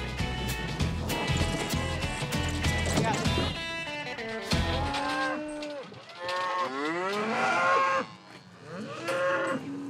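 A herd of cattle at a Montana ranch, gathered for vaccination, moos repeatedly and loudly at close range, several overlapping calls rising and falling over a busy background of shuffling and clatter.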